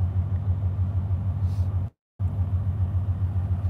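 A steady low rumble of a Ford Mustang's rear end droning from inside the gutted car, briefly cutting out to silence before resuming.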